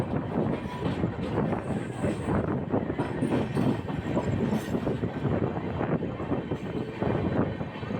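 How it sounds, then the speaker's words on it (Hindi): A train approaching from the opposite direction on Indian rails, heard from aboard the Vikramshila Express, makes a steady rumble with clickety-clack wheel beats and faint wheel squeal. "और ये सामने से लगता है कोई ट्रेन आ रही है।"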